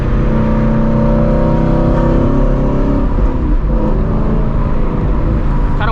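Car engine with a manual transmission blipping the throttle about 500 RPM to rev-match a downshift while braking from around 40, a loud close sustained engine drone with rising and falling pitch.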